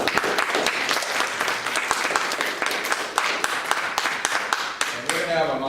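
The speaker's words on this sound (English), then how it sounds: "Please give him a round of applause." Audience applause greets company president as he is invited onstage at a negotiation seminar, steady dense clapping from a crowd throughout, tapering slightly with a voice beginning near the end.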